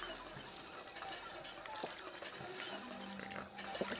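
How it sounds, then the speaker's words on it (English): Water pouring and trickling from a drinking source in the video game Fallout 4, a short continuous splashing flow heard alone, fairly close and steady. "Let's drink some free water."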